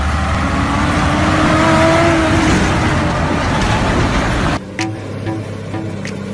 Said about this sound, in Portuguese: Caminhão Lene chegando aí